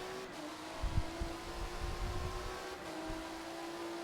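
Race car at Spa-Francorchamps during WEC qualifying taking the last corner, a steady engine drone with a sustained tone and a few low rumbling surges, heard at moderate distance with no talk.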